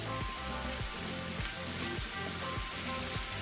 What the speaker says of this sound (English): We're going to cook it for about 5 to 7 more minutes. Make sure to continuously stir it so that it doesn't burn